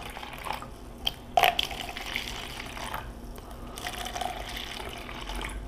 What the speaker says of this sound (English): Just going to pour some in this cup, some in this cup,